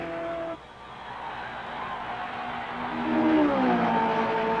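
An Andretti Indy race car from 1965 on a qualification lap, its engine roaring steadily throughout with a rising pitch sweep near the end as it passes.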